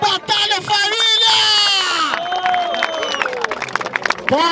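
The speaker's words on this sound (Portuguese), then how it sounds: "Palmas pra essa batalha" A crowd at a street rap battle semifinal claps, cheers and whoops loudly, with an excited voice shouting over the applause throughout.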